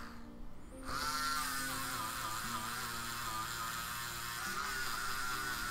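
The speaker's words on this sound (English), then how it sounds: "Probably actually give this electric eraser a try." An electric eraser runs on a pastel portrait drawing, switching on after a brief quiet moment and then holding a steady, close, buzzing motor whine to the end.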